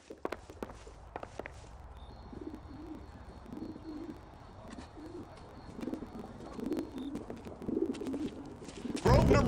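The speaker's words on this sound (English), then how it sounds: "All right, the pigeon." A pigeon in the video game L.A. Noire coos softly in short repeated murmurs, faint beneath footsteps and scattered clicks, with a louder burst at the end.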